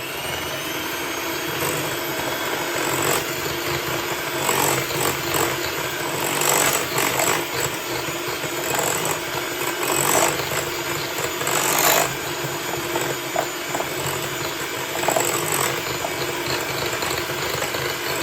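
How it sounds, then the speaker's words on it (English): An electric mixer blends salted butter and sugar for Liberian coconut tart dough, whirring steadily and fairly loudly from start to finish with slight rises and dips in pitch, and no voice over it. "I'm going to blend that well."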